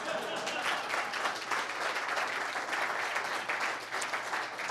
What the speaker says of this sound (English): Not with that kind of an applause.